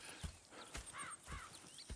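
Horses in the video game Red Dead Redemption II, soft hoof clops and snorting with a faint neigh, quiet and close over low outdoor ambience.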